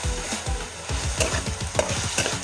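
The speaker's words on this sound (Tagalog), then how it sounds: "nagisa na natin tong ating mga laman loob" Chicken innards sautéing in a hot pan, a loud continuous sizzle broken by repeated scraping stirs of a utensil against the pan, close up with no talking.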